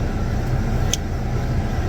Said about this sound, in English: I'm letting my car warm up this morning because it is cold